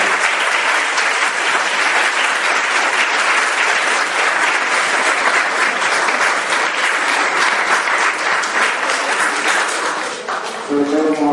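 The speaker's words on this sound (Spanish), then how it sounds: "Agradecemos a Pablo Mar por el aplauso." An audience applauds at the close of a talk on basic notions of spirituality, steady dense clapping filling the room for about ten seconds before fading, followed by a voice.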